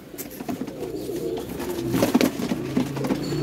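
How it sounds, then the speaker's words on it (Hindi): Pigeons, including a white one, coo softly in a low, steady murmur with soft rustling and flutters, close by and with no talk. "ये हो गया जी इनका सफ़ेद कबूतर जो है बग्गा, 4 हो गए"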